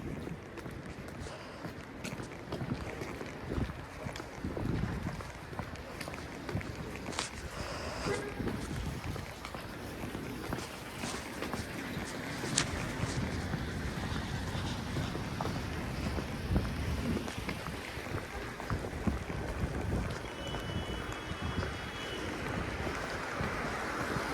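Wind gusting through Midtown Toronto streets during the season's first snowfall, a loud, steady rush that buffets the microphone with low rumbling surges for the whole stretch.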